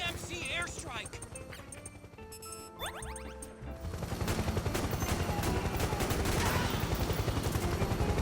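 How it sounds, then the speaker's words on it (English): Explosions and gunfire from a PMC airstrike in Metal Gear Solid 4: dense, loud bursts of blasts and rapid shots that swell after a brief lull and continue steadily to the end, with game music and effects underneath. "PMC airstrike"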